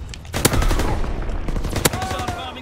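Gunfire in the Call of Duty WW2 video game rattles out as rapid, loud automatic bursts with sharp individual shot cracks, close and continuous, under occasional faint voice.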